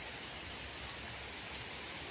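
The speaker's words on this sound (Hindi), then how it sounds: "देखिए इतना बारिश हो रहा है" Heavy rain pours over a village, a dense, steady wash of droplets hitting the ground and roofs with no break in intensity, fairly quiet and even throughout.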